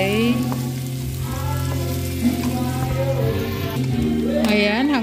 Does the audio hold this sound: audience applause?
no